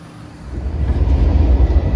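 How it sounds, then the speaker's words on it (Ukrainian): A tram pulls away on a street in Kraków, its low rumble and rattle building steadily over two seconds and close by. "Трамвайчик поїхав. Трясеться так все капець."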